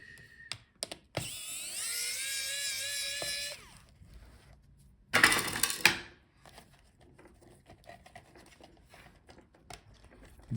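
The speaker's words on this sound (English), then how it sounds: "So unscrew these two screws." Small screws on the speakers of a 2022 Razer Blade 17 laptop being unscrewed during a teardown, a loud whirring drill-like burst followed by a second short burst, with faint clicks and handling noise between.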